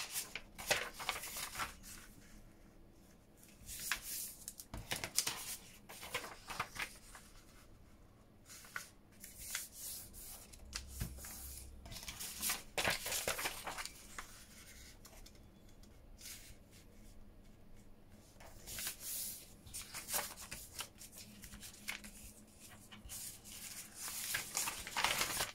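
Loose sheets of paper being handled, shuffled and stacked for an envelope journal folio, with repeated close rustles and soft flaps in irregular bursts, quiet and up close with no talking.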